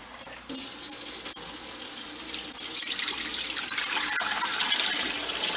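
Hot water pours steadily over pork bones for a pork broth, a continuous close hiss and splash that swells slightly louder partway through, with no voices.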